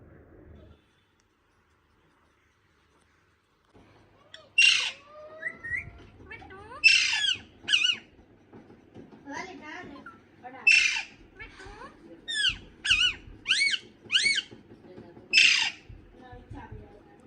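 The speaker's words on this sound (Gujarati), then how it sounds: "અત્યારે બોલે છે પોપટ ગાઈસ।" A pet parrot kept in a family home squawks loudly and shrilly in a series of about ten sharp, piercing calls spread through the clip, close to the microphone. Low household background and faint voices sit underneath.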